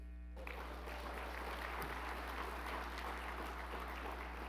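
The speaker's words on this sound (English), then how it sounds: "You can applaud that too." Audience at a gala applauding, a dense, even wash of clapping that starts abruptly and continues steadily at moderate distance over a low background hum.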